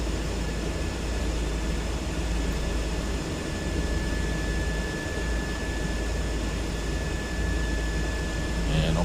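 A Cessna Grand Caravan in Microsoft Flight Simulator 2024 begins its taxi, a steady, loud broadband turboprop drone with a faint high whine holding constant throughout, no talking.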